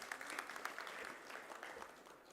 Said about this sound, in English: A big round of applause for sir, please